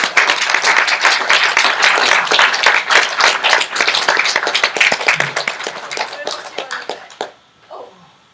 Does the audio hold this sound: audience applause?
yes